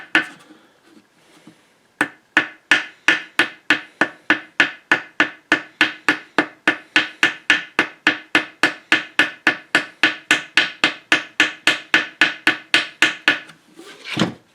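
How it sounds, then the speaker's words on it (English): A small ball peen hammer strikes repeatedly to punch gasket holes near a washer casting, a brief pause followed by a long, even run of sharp, loud metallic-wooden taps at a steady quick rhythm. "So find a small ball peen hammer"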